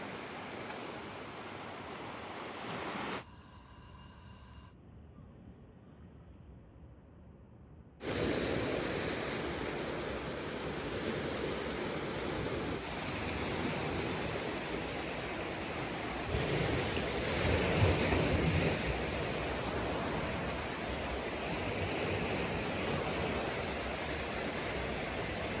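Ocean waves roll in on a Vancouver Island shore at high tide, a steady broad wash of surf with wind noise, briefly muffled before returning loud and continuous.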